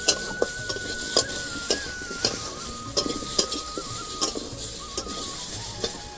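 Mango pieces with turmeric are stirred in a pan, a soft sizzle underneath regular rhythmic spatula scrapes and knocks against the metal, close by, with a thin high whine running through the background.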